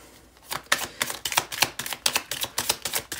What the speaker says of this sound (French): Je tords les cartes.